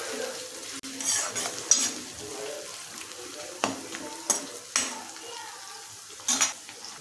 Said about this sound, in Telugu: ఉల్లిపాయలు వేసేసుకుంటున్నాను. చూడండి, ఉల్లిపాయలు బాగా వేగనివ్వండి.